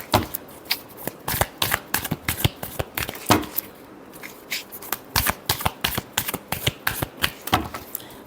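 A deck of tarot cards is shuffled by hand in a run of quick, crisp riffling bursts, close and repeated in an uneven rhythm, with no voices over them.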